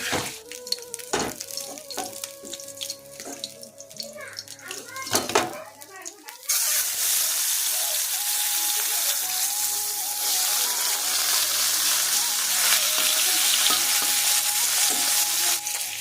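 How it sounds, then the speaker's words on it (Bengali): Bata fish frying in a pan alongside a papaya and potato vegetable dish, a loud steady sizzle filling the second half after earlier clatter and stirring, with voices speaking at the start. "বাটা মাছ ভাজা হচ্ছে"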